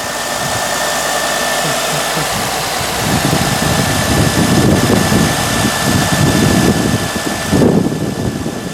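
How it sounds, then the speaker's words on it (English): A 1998 Honda Accord idles just after a jump start, its power steering pump running with a steady mechanical whine over a rougher low rumble that swells toward the end, close by and with no talking. "And there's the power steering pump going."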